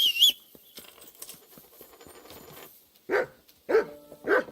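A dog in the Kingdom Come Deliverance 2 video game gives several sharp barks in quick succession near the end, following a quieter stretch of faint game ambience and clatter.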